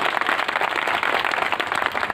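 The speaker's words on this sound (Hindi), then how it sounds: "दिल की गहराइयों से एक बार जोरदार तालियां हो जाती" A crowd at an event honouring two dignitaries breaks into loud, dense applause, with many hands clapping together in a continuous, even roar for about two seconds.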